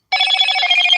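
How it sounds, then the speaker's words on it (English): A telephone rings in a home crafting space where resin is being mixed for a custom cross, a steady electronic ring starting abruptly and continuing loud and close without talk. "And there goes my phone."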